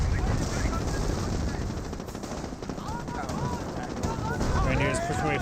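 Autocannon fire in a Company of Heroes World War II battle involving tanks, rapid repeated shots amid a dense battlefield din, with a caster talking over it.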